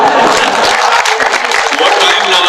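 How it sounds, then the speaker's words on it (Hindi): Loud, steady applause from an audience at a Hindi comedy show, a dense clapping wash lasting the whole moment. "एक बार जोरदार ताली बजाओ चलो"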